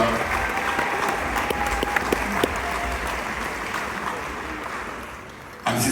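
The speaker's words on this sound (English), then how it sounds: "give a little round of applause" A crowd at an awards evening in a hall gives a round of applause, a steady mass of clapping hands that keeps even and then fades slightly before a brief louder burst at the very end.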